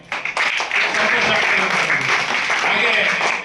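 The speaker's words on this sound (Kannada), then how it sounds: "ನೀವೆಲ್ಲ ಚಪ್ಪಾಳೆ." Dense audience applause with many overlapping claps fills the clip steadily from start to finish, loud and close, at a speech honouring the freedom struggle.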